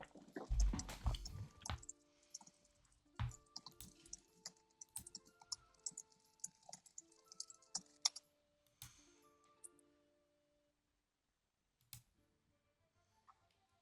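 Typing on a keyboard indoors, with irregular bursts of soft key clicks that thin out into sparse taps and then near silence, no voices.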